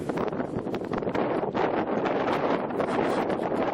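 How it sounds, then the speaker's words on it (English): Steady wind blows outdoors on a sunny day above a bay with islands near Bar Harbor, a moderate continuous rushing and buffeting against the microphone, with no voices. "Nice wind from my left."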